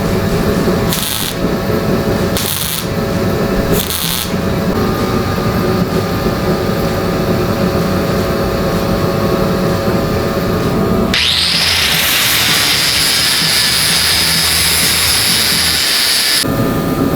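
A MIG welder set to its lowest setting runs on thin, rusty sheet metal during rust-hole repair, a steady harsh buzzing hiss that grows brighter and more sizzling partway through and continues without pause, loud and close.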